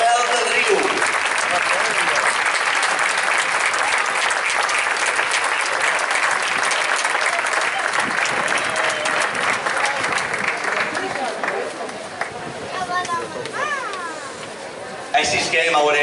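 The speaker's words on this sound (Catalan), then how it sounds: "Rebem a Sant Mateu, a Sant Rafel, un fort aplaudiment." A crowd in a town square at a Maestrat traditional dance gathering in Xert applauds incoming dance groups, a loud sustained wave of clapping with cheers and chatter throughout, tapering slightly toward the end.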